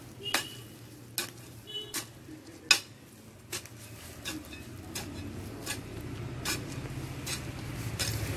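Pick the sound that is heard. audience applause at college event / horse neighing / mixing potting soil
mixing potting soil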